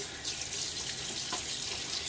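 Water running from a bathroom tap while wet shaving, a steady hissing flow heard alone at close range for about two seconds.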